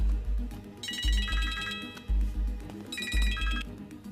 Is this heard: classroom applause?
no